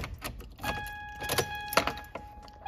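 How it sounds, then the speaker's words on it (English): Keys jangle and clink as they go into the ignition of a first-generation Toyota Tacoma, a few close metallic rattles and taps with a faint steady electronic tone running beneath. "put our keys in the ignition"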